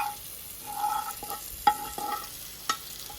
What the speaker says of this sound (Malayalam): ഇപ്പം അതിന് ഉള്ളിയും തക്കാളിയെല്ലാം വഴറ്റിയെടുക്കാം.